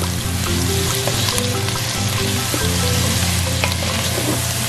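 Shrimp paste sizzles steadily in hot oil with garlic, onion and crispy pork while being stirred, a dense, continuous frying hiss with occasional scraping and no talking.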